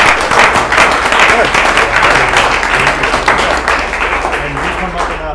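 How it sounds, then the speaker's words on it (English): Loud applause from an audience at an artist's talk on Gamblin oil colors and the palette, a thick steady wash of clapping that tapers slightly near the end. "let's have another round of applause"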